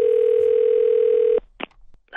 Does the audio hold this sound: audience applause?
no